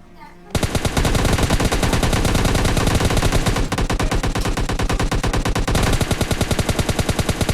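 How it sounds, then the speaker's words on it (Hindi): An M4 assault rifle fires in PUBG Mobile Lite as a long run of rapid, evenly spaced shots. The bursts are loud and close, with one brief break midway before firing resumes. "मैं M4 से ही गिरा देता हूँ"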